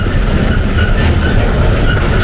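A Norfolk Southern freight train rumbles steadily past close by in Hot Springs, North Carolina, with loud continuous wheel noise and rhythmic rail clatter throughout.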